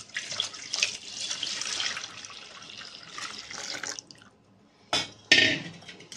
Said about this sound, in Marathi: तर आता ह्याच्यात आपण हे गरम केलेलं दूध ह्याच्यामध्ये ओतून